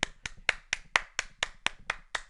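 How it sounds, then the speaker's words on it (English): Steady hand clapping, about ten crisp claps evenly spaced at roughly four per second, close and fairly loud with no voices, celebrating a draw in a tic-tac-toe game. "So let's give a clap for draw."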